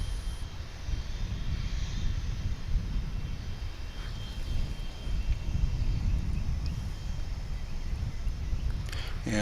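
Delta Airbus A320 airliner at DFW International Airport, heard as a steady low engine roar and rumble that holds fairly constant throughout, moderately near with broadband hiss above.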